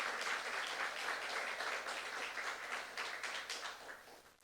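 A church congregation at a youth service applauds during a sermon, sustained mid-distance clapping that keeps a steady level and then gradually thins and fades out.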